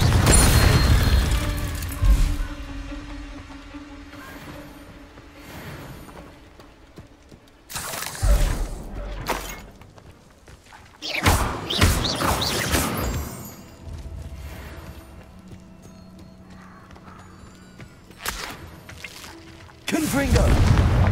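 Confringo spell explosions in Hogwarts Legacy, several loud crashing blasts spread apart with quieter game sounds between them and occasional speech.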